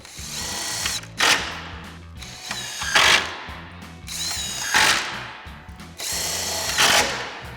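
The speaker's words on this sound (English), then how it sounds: "We'll tighten those down with our 10mm socket." A power tool with a 10mm socket tightens headlight mounting bolts on a 2019-2024 RAM 2500, four short buzzing, ratcheting bursts spaced by brief pauses, close and clear.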